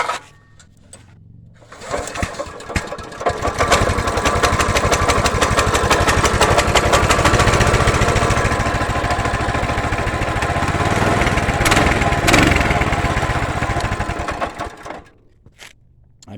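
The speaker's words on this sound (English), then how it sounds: "I'm going to show you how easy this thing is to start. Switch it on, fuel on, choke it." A Coleman BT200X mini bike's small engine fires after a short pull, then runs loud and close at a fast steady putter with a brief rev before cutting off.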